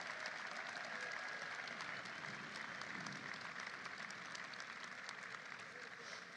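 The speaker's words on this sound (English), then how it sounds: "Let's have a round of applause for our great caucus." Steady, dense applause from a large crowd at a political celebration fills the whole stretch, a continuous wash of many hands clapping at moderate distance.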